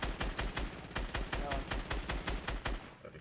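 Rapid SMG bursts in the shooter PsyQo Standoff, a fast, evenly spaced string of sharp close shots rattling for about three seconds before cutting off.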